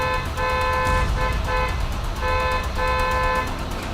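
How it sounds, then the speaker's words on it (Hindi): A car horn honks in a series of repeated short toots amid engine and road noise close by. "क्या बेकार में हॉर्न मार रहा है?"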